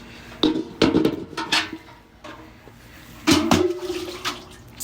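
A bucket scooping water from a flooded pit about 6 feet deep, heard as a few close splashy sloshes and clanks in separate bursts with quiet gaps between.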